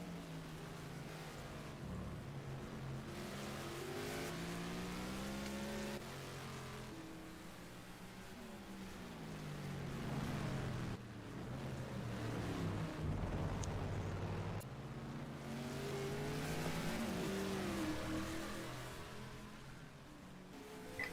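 1972 Formula 5000 race cars at Brands Hatch during the BRSCC Race of Champions, engines droning and rising and falling in pitch as cars pass, steady and loud throughout, with no talk audible.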